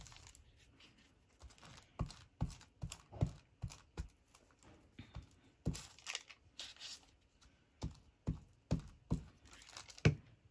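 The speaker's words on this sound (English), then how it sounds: "you probably can't hear because I'm tearing paper" Paper being torn by hand while making painted mixed media craft tags, heard as a series of short, sharp ripping and crackling bursts with uneven gaps, close and fairly quiet.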